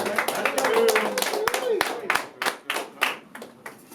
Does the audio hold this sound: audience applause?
yes